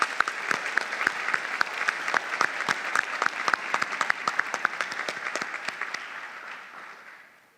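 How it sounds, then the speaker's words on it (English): A graduation crowd gives a round of applause: many hands clap in a crisp, steady wash with sharp individual claps standing out, then it fades away at the end. "just a round of applause for everyone in the audience"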